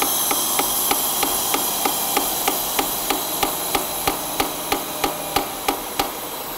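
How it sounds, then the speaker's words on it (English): Sharp, evenly spaced metallic taps, about two a second, strike the idle air control valve on a high-idling Honda Pilot at around 200,000 miles, each click crisp and close over a steady engine hum and hiss. "I was tapping on the idle air control valve."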